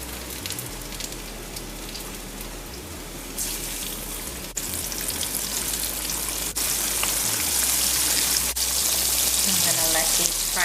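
Flour-coated shark pieces frying in hot oil, a steady broadband crackle and hiss like rain that grows louder and denser partway through, with faint voice-like sounds in the background.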